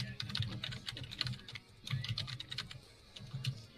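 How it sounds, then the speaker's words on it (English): Quiet keyboard typing as a text message is written, coming in quick clattering bursts separated by short pauses. "when I was done typing out that text message, just sent it off"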